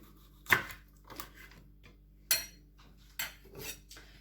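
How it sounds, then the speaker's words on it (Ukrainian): Sharp knife strokes slice through a crisp bell pepper on a board, several separate cuts with short pauses, close and clear with no talk. "Перець я залишу так, нарізаю півкольцями."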